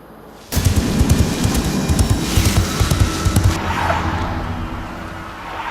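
A car driven fast along a Pratapgarh forest road in a 2010 Hindi film bursts in after a brief quiet start, a loud rumbling engine with gritty road and tyre noise that slowly eases toward the end.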